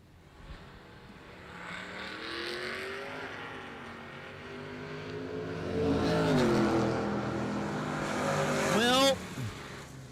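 A Firebird and a Mustang GT launch down a drag strip at an IHRA World Finals meet, engines rising in pitch and roaring louder as they accelerate away, with an announcer's voice over the track.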